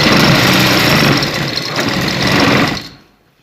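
Sewing machine running steadily as it stitches the folded hem of a shalwar trouser leg, a loud continuous motor whir that stops abruptly near the end.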